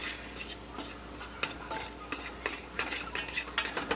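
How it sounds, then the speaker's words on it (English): A spoon scraping and clinking against a pan while brown gravy is stirred over medium heat, a string of irregular metallic taps and scrapes with a faint sizzle beneath. "So just keep on stirring it up."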